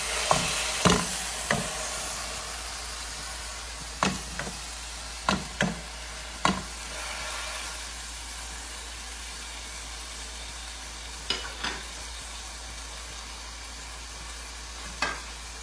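Tikki patties fry in a pan with a continuous low sizzle, punctuated every few seconds by sharp taps of a spatula pressing them, heard close and without talk.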